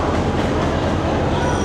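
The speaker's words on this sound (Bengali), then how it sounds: "এই যে আমাদের সেই ট্রেন, এই যে জয়ন্তিকা এক্সপ্রেস" Jayantika Express train at Sylhet railway station, a steady, loud rumble of rolling railcars with a dense, continuous roar filling the scene and no clear voices.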